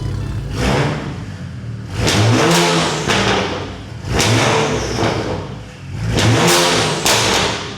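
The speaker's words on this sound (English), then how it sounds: "Let's give it a couple revs." BMW 335xi with a straight-pipe exhaust, revved repeatedly while parked: about four loud, throaty engine blips rise and fall in roughly two-second cycles, close and raw, with no talk over them.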